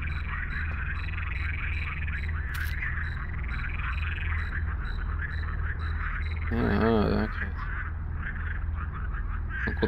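Frogs croak in a dense, continuous chorus in the forest setting of the video game The Cursed Forest, loud and steady throughout, with a brief deeper call rising midway.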